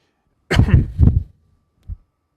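A person gives two quick, close coughs, followed a moment later by a smaller third one, alone in an otherwise quiet room.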